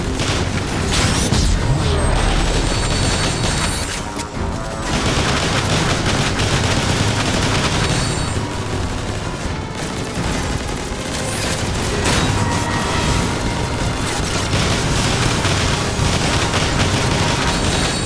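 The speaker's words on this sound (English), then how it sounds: "Autobots, now fire at Soundwave." Gunfire in Transformers: War for Cybertron as Autobots shoot at Soundwave: dense, continuous bursts of loud automatic weapon fire mixed with booming blasts and mechanical clatter, running the whole time with no talking.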